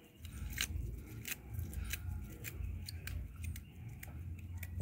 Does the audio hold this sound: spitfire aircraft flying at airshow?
no